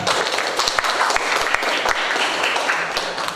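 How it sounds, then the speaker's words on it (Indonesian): A classroom group applauds a student after a presentation during an Indonesian school lesson, with close, dense hand clapping that stays steady for several seconds. "Tepuk tangan untuk Juan."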